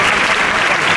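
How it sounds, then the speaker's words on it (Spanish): A Huelva crowd bursts into loud, dense applause as the Jesús Nazareno float is lifted during the Tres Caídas procession, a close, sustained wash of clapping filling the entire moment. "Se levanta con el aplauso de Huelva."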